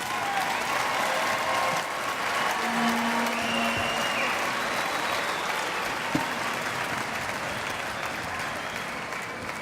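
Steady, dense audience applause for College of Business graduates at a university spring commencement ceremony, sustained and even throughout, with a faint murmur of crowd voices underneath.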